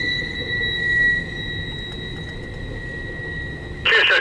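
CSX Q034 intermodal freight train running east on the main line, wheels squealing in two sustained high-pitched tones over a steady rolling rumble, with a sharp, loud burst of squeal near the end and no talking.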